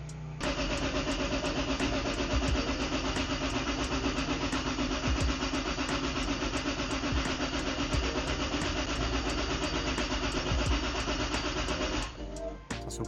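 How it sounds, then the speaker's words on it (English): A car engine cranks over on the starter without firing to build oil pressure after an oil change, a steady rapid whirring churn that runs unbroken for about twelve seconds before stopping. "basically just crank it over until the oil pressure starts reading up"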